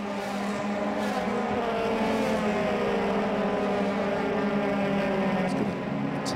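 Euroformula Open single-seater race cars at Monza, running toward the Parabolica during 2017 qualifying, give a continuous loud engine drone with shifting harmonics as several cars pass in close succession, with no voices.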